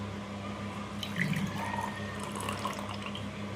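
A glass of water is poured into a rice cooker while making meal maker pulao, giving a soft, steady splash and trickle, close and fairly quiet, with a steady hum beneath.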